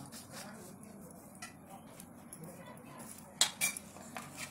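Paneer filling being stirred in a pan with a metal utensil, soft scraping and clinks that rise near the end to a few sharp, close taps and knocks.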